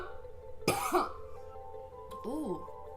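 A woman coughs and clears her throat after smoking from a bong lit with a clean torch, two rough bursts close by with quiet background in between.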